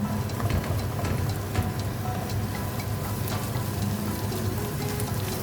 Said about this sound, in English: Now saute it. Increase the flame to medium heat.